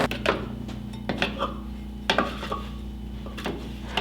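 Cookie dough for chocolate wedding cake cookies is worked in a bowl by hand or with a spatula, giving a series of close, light knocks and scrapes against the bowl with short pauses between them.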